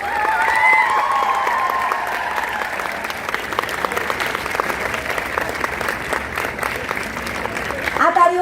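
Audience applause at a national homoeopathic summit in Vadodara fills the hall, a dense, steady clapping that runs loud throughout, with a few voices and some tonal sound briefly audible early on.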